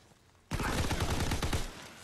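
Type 100 submachine gun firing in Call of Duty WWII: a loud, sudden burst of rapid automatic shots that starts abruptly and rattles on for over a second before cutting off, heard alone.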